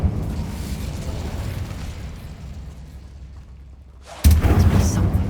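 An Incendio fire spell in the Hogwarts Legacy video game bursts with a sudden loud blast after several seconds of low rumbling ambience, then a roaring burn continues close and strong.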